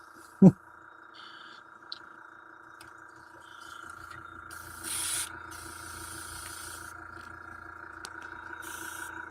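Short hissing bursts of a spray nozzle, one longer blast and a brief later one, over a steady low hum, with a sharp knock near the start.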